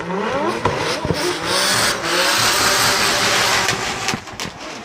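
Formula Drift cars at Japan's 2024 Round 2 roar continuously nearby, engines revving hard and rising and falling as they slide through a drift, a steady loud wall of exhaust and tire noise with brief throttle blips.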